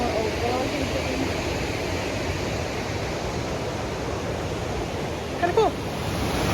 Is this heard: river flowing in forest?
yes